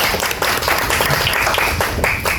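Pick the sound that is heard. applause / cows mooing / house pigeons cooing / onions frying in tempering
applause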